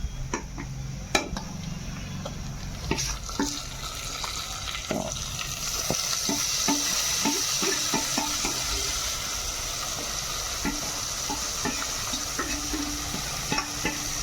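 Marinated chicken goes into onion and tomato masala and fries in a pan, with a steady close sizzle and repeated spoon scrapes and clicks against the vessel throughout.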